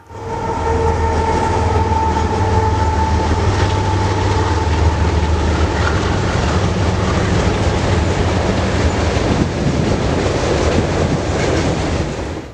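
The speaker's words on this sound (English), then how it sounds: "The next train was also a mixed freight, except this one went roaring over the Chillicothe" A mixed freight train roars steadily past at close range in Galesburg, Illinois, a continuous loud rumble with rolling wheel clatter throughout.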